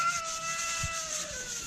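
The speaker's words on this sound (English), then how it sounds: "All right, let's start sanding." Soft, steady hand sanding across the door of a 1959 Ford F-100 pickup, a quiet continuous scratchy rubbing with a faint thump partway through.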